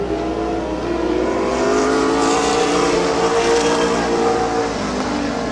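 Race cars roar around the oval at Midvale Speedway during a 2010 race, their engines forming a continuous, loud droning whine that swells slightly as the pack runs side by side.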